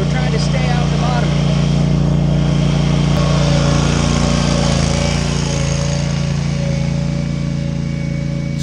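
A Stinger Quad-Aer 3000 ride-on aerator drives up and down a wet off-camber hillside, its small engine droning loudly and continuously close by without letup.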